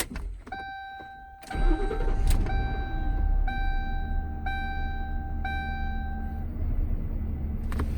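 A car engine cranks briefly and catches, then settles into a steady idle, while chimes from the instrument cluster beep in a regular repeating pattern above the engine hum.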